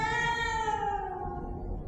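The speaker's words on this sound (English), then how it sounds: "A manky feline purrs uncaringly at its presence predicament." A cat in the video game STASIS gives a single drawn-out meow that slides downward in pitch, clear and close, lasting nearly two seconds with no speech over it.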